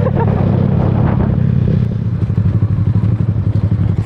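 Yamaha Sniper 150 motorcycle on a test ride, its engine rumbling loudly and close with a steady pulsing beat and some clatter, no talk over it.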